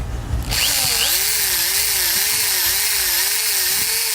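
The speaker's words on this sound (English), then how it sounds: "you're gonna take a small drill bit and then you're gonna make a pilot hole" A power drill with a small bit bores a pilot hole for a cab rack install on a 2020 Toyota Tundra TRD Offroad, spinning up with a sharp start into a loud, steady high whine with a wavering pitch.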